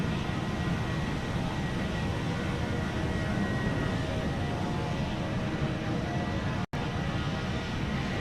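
Steady, loud broadband roar inside an American Airlines airliner cabin climbing out after takeoff from Miami, a continuous engine and airflow rush that holds level throughout, with one brief dropout near the end and no talk.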